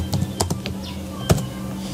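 Typing on a cheap computer keyboard, scattered sharp key clicks at an irregular pace, close and fairly quiet, with no one speaking.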